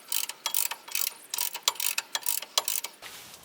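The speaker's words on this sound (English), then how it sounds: "here's the lower ball joint that I'm going to be torquing down" Rapid metallic ratcheting clicks from a torque wrench tightening the 1 1/16 nut on a Ford F150 lower ball joint, close and crisp, in quick uneven bursts with short pauses.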